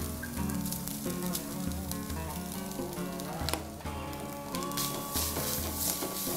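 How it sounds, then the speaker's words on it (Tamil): Grated coconut roasting in a pan for mushroom shagoti, a steady soft sizzle and crackle under background music throughout, without speech. "கோகோனட்டை ரோஸ்ட் பண்ணிக்கலாம்."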